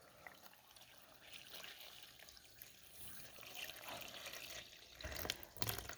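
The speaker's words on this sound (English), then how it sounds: "I'm going to go ahead and pour in my water" Quiet pouring water splashing and trickling steadily into a container holding sand, close by, with no voices.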